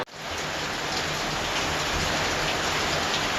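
Steady, dense rainfall pouring down outdoors in a flooded community, a continuous close hiss of drops hitting surfaces with no pauses or voices.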